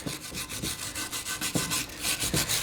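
Rhythmic scrubbing of a small hand wire brush on a 6-inch metal bench vise, about a dozen quick back-and-forth strokes, close and steady with no voices.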